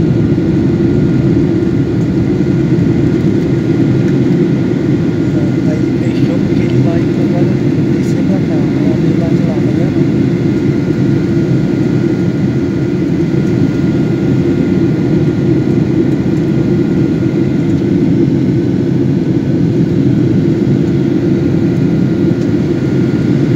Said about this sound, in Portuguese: Fazendo a aproximação do aeroporto de Manaus.